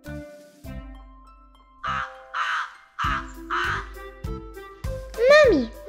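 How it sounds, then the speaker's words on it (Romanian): A crow gives a string of about six loud, nasal caws at a close, even rhythm. Other voices and singing run through the gaps in a children's song. "Cioara face crac, crac."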